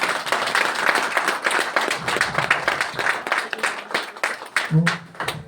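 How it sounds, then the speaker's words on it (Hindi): A seminar audience gathered for a live demonstration in Shimla claps together on cue, with loud, dense, rhythmic applause that softens near the end as a few voices and a brief tone come through. "जोरदार ताली एक बार"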